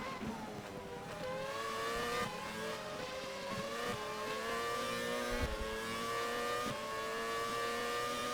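Race car engine from the Race 07 racing game at Monza, revving steadily with rising and falling pitch as the car comes onto the straight and holds throttle, loud and continuous throughout without any talk.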